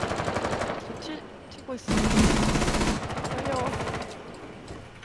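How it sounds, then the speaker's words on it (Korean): Rapid automatic gunfire rattles loudly during Rainbow Six Siege as an operator rappels at a window and shoots, sustained bursts under brief talk. "창문에서 레필링하면서 쏘고 있어요"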